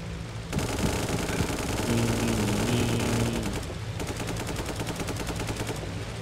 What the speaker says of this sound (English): Oh, dang, I think I'm getting shot from the back.